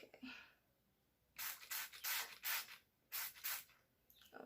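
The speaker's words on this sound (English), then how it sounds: "why are you spraying tea in your hair?" Several short bursts of tea misted from a spray bottle onto hair hiss in quick pairs and groups with brief pauses between them, close and fairly loud.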